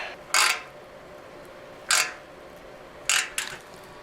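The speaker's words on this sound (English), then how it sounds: "Let me see if I can get my little socket on here and get it started." A small socket wrench starting a bolt on a Foxbody Mustang radiator, three or four short metallic clicks spaced apart, close and quiet with no talking.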